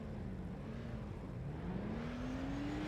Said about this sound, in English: You'd think so at the sound of the revs here.